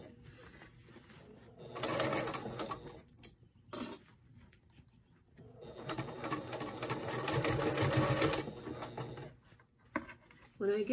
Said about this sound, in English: And I'm going to double stitch there and then stitch away.